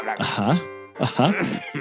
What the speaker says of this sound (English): this coughing is really annoying